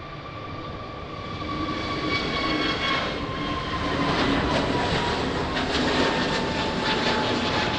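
An Airbus A321 at Lisbon Airport on a rainy, windy day, its engines a broad, steady roar that swells slightly and holds loud and sustained, with no voices.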